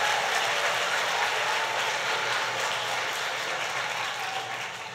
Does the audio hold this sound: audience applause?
yes